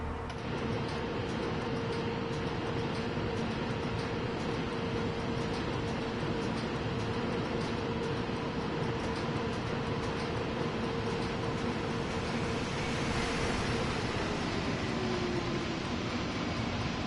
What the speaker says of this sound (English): I suspect we got another freight coming our way.